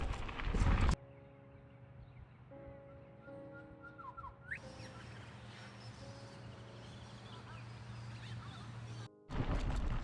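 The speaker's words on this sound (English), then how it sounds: "Horses. Both sides." Horses move through open countryside along a cycling trail, with rhythmic hoof clip-clops and a faint whinny over steady wind and riding noise, and occasional whistling-like tones.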